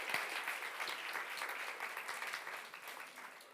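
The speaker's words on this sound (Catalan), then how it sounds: "Aplaudiu-la, que s'ho mereix." An audience at a Catalan talk on queer communism gives sustained applause. The clapping is fairly soft and dense and continues evenly before fading slightly toward the end.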